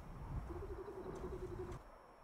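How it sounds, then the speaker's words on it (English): An owl in the X-Men '97 animated series gives one faint, drawn-out hoot that holds level for about a second against a quiet background. "That owl, I've seen him before circling."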